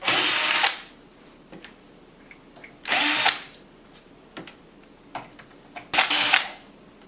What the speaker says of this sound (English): We will now remove the screws that secure the power supply to the printer.